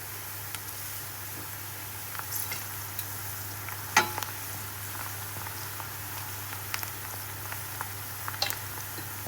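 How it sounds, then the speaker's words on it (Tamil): Onions and green chilies frying in a pan for a Jaffna-style brinjal curry, giving a soft, steady sizzle with occasional light stirring clicks and one sharper tap midway, fairly quiet with no talking. "இப்போ வந்து இந்த வெங்காயம் அரைப்பதமாக பொறிஞ்சு வரும்போது பச்சை மிளகாயும் இதுக்குள்ளே போட்டு பொறிச்செடுப்போம்"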